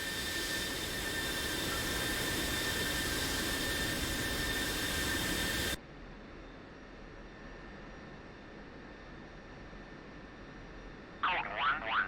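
A jet engine roars in a flight simulator cockpit during startup, a loud steady whine and rush that drops abruptly to a lower, quieter hum, with a brief warbling tone near the end.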